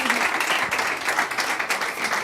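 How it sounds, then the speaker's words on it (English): A crowd at a young chefs' cooking competition breaks into sustained, fairly loud applause with steady dense clapping, and a voice can be heard faintly underneath. "Give her a round of applause to Giulia."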